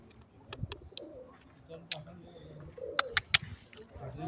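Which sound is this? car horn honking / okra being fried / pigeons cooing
pigeons cooing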